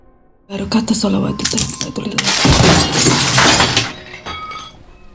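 A picture frame drops and its glass shatters loudly, followed by a long scatter of broken shards and tinkling debris that slowly settles.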